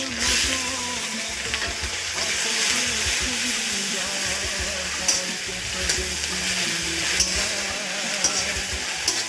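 Ginger paste frying in hot oil in a wok gives a loud, continuous hissing sizzle with faint stirring clicks, heard up close and steady throughout, with no one speaking.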